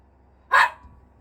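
A single sharp, close dog bark rings out loud and short, with near silence before and after it.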